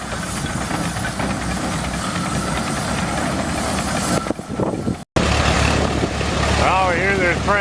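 An old engine runs at an engine meet where hay is being threshed by power takeoff, giving a loud, continuous hissing, chugging drone at close range, with a brief break and people talking over it.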